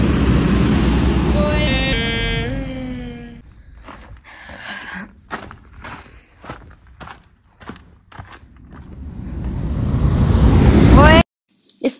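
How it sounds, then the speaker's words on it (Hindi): Wind and surf on the clifftop coast at Sagres, Portugal, a steady broadband rush that swells louder toward the end, with footsteps and people talking over it in the first seconds. "नीचे समुद्र से आ रहा है हवा"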